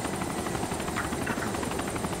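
In the DayZ video game, a helicopter's rotor beats in a continuous fast, pulsing whir with a constant engine drone, loud and close throughout.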